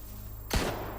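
A single gunshot in the S.T.A.L.K.E.R. GAMMA video game, one sharp loud crack with a short booming tail in an otherwise quiet moment, no voices.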